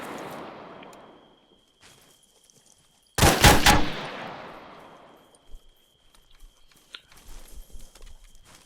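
Gunfire in the ArmA 3 video game with rounds striking a stone house: a loud close burst of rapid shots, then scattered fainter impacts and clatter, with quiet stretches before and after.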